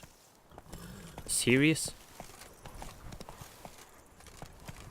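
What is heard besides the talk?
hooves of Roach the horse in video game Witcher 3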